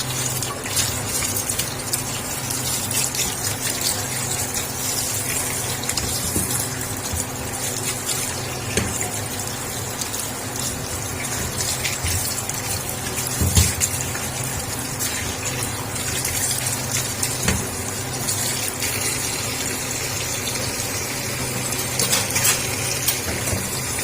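Bitter gourds are washed under running tap water, producing a steady, close gush with light splashing that continues without a break and without any voices.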